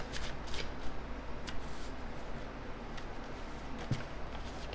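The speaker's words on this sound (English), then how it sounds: "I'm going to shuffle a bunch of them out and then we'll read them all at once" A deck of oracle message cards is shuffled during a pick-a-card tarot reading, a soft, close, papery riffling and rustling that stays quiet and continuous with small flicks, no voices.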